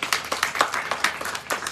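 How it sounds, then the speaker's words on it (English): Audience applause at a Hindu temple gathering, a brief burst of fairly close, rhythmic clapping from a modest crowd. "So give this family a round of applause."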